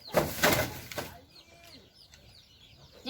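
Ducks being grabbed and caught, with a short burst of flustered clucking and squawking up close, then quieter scattered calls and movement.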